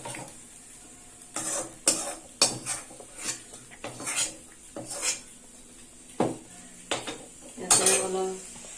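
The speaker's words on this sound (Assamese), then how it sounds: "এইখিনি মই এতিয়া মিক্সিলৈ ট্ৰান্সফাৰ কৰিছোঁ।" Cooked tomato mixture for sambar being scooped from a pan into a mixer jar, with a run of sharp spoon and metal clinks and scrapes coming in irregular bursts, close and fairly quiet, with no talk.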